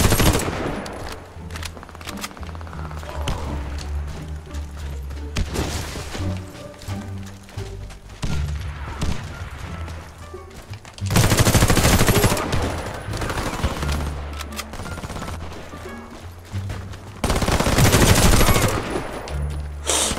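Rapid automatic gunfire from an H&K MP5 in the shooter game Warface, sustained bursts with loud peaks of heavy fire, close and dense over the whole stretch.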